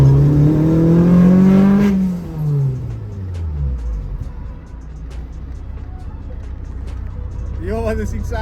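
A modified VW Golf with a VVL engine revs hard while driving, its loud pitch climbing and then dropping away as it shifts or lifts off, followed by a lower, steady engine drone with another rising rev near the end, with voices around it.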